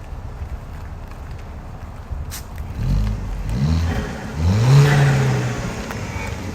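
A 2.0T car with a six-speed manual gearbox accelerates past at moderate distance, its engine note rising in pitch through two pulls, over light wind noise.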